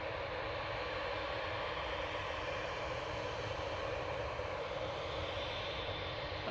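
A Ryanair Boeing 737 at Manchester Airport gives a steady, broad jet-engine roar, faint and distant, constant throughout with no voices.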